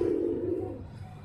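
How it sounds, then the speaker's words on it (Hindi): Rooftop pigeons give a single low, throaty coo up close, steady for about a second before fading, with no other sound around it. "अभी नेट लगा हुआ है और कबूतरों को उठाने की तैयारी हो रही है"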